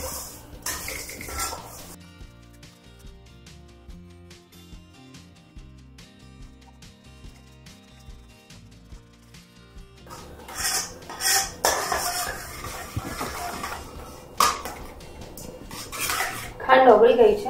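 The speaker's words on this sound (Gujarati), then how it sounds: "ખાંડ ઓગળે ત્યાં સુધી આપણે સતત આને હલાવતા રહેવાનું છે" A metal spoon scrapes and clinks against a hot kadai while sugar is stirred as it melts, with a quieter stretch before repeated loud, close scraping and knocking strokes.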